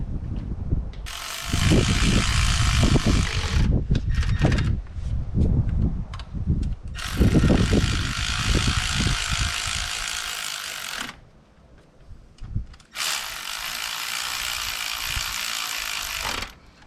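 Ratchet wrench running down bolts on a Nissan Murano engine, three long bursts of fast, loud metallic clicking up close, separated by short pauses with knocks and handling sounds.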